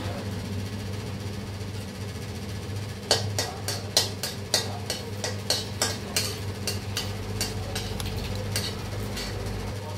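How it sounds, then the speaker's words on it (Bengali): Bay leaves tempering in hot oil in a pan, a low frying hiss with a series of sharp clicks and taps from a spoon or ladle stirring against the pan partway through, close and moderately loud. "এবার দেব তেজপাতা ফোড়ন"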